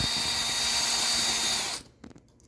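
A power drill runs loudly and steadily for almost two seconds while fasteners are tightened during a Maytag dishwasher installation, then stops abruptly, leaving a few faint knocks.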